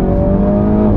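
Mini Cooper S engine in sport mode with sport exhaust, a loud, steady close-up drone of revving under acceleration, continuous for the whole moment with no talk.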